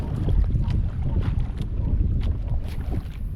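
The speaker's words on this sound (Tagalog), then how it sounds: "Medyo mahangin guys." Steady wind roars across the microphone on a small fishing boat out at sea, a loud continuous low rumble with gusty buffeting and faint water wash, no voices.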